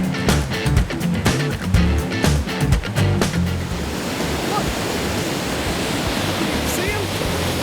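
A waterfall on the Tellico River roars as a broad, constant rush of water, with bursts of louder noise and wind buffeting at the start before it settles into a steady wash.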